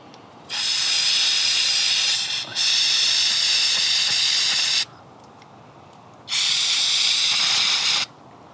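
Carburetor cleaner sprayed onto coated spark plugs from a 2G DSM Talon TSi or S14 240SX, heard as three loud, steady hissing bursts up close, the first pair nearly back to back and the last after a short pause.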